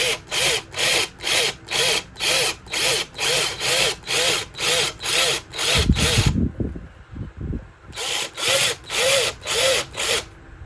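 A drill bit bores into pine wood for a guitar body in a rapid, regular pulsing rhythm, close and loud, briefly pausing with a rougher grinding before resuming.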